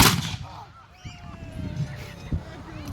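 A light infantry musket fires at a redcoat living-history display. One loud, close report opens the clip, and a few lighter pops follow amid outdoor background noise.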